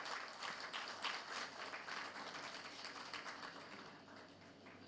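An audience at a workshop on deemed conveyance gives a sustained round of applause, a steady wash of clapping with no talk over it.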